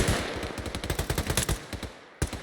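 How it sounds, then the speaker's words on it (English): Rapid automatic gunfire in the military shooter game Arma 3 during a squad attack drill, loud bursts of closely spaced shots with a brief pause before a final sharp shot, no voices. "Hit fire left. Shift fire left."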